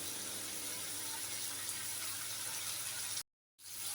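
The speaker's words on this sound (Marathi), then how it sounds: "अर्धा बॉटल तरी पाणी टाकूया त्याच्यामध्ये." Half a bottle of water is poured into a cooking pot, a steady gushing splash that runs evenly, then cuts off abruptly before a brief return of background hiss.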